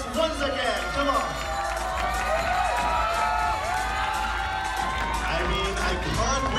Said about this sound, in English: So please give them a big round of applause once again.